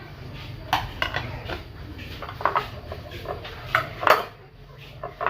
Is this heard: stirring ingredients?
yes